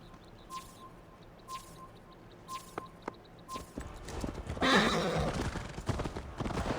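Horse in the Assassin's Creed Valhalla video game: a whinny and snorts over repeated hoof thuds and chiming game sounds, building into louder rustling movement and clopping toward the end.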